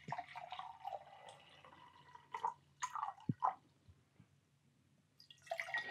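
Water poured into glass jars gives faint, brief splashes and drips with a few gurgling pours separated by quiet gaps, heard alone and close up.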